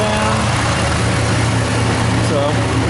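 A Chevrolet Camaro engine with ceramic-coated long tube headers idles with a deep, steady exhaust rumble, loud and close, holding an even tone throughout.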